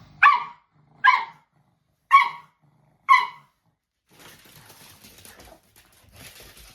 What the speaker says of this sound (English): I literally can't concentrate because she's barking.